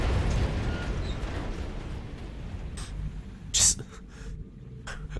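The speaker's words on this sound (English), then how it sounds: "And now there's just explosions, blood, and fire everywhere." Explosions from the video game XCOM Enemy Within: several sharp blasts go off over a dense, rumbling battle backdrop, with one loud burst near the end standing out above the rest.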